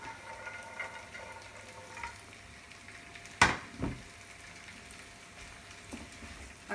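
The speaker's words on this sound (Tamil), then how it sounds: "இப்போ நம்ம கேஷ்யூ நட்ஸ் ஃப்ரை பண்ணிவிட்டு போட்டுடலாம்." Cashew nuts frying in a pan for a chicken kuzhambu and chicken fry meal: a soft, steady sizzle runs throughout, with one sharp utensil knock near the middle and a couple of lighter taps. No one speaks.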